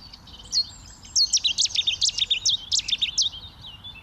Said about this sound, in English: I've just had Chetty's warbler calling in the reed beds in front of me